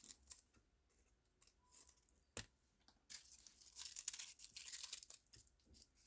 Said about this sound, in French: je vais couper tout ce qui est toutes les queues